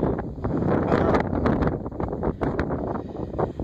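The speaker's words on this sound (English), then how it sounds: "it's like really windy here and I can barely hear myself think" Strong wind outdoors among trees in the north, blasting the microphone with a loud, continuous, gusting roar and no voices.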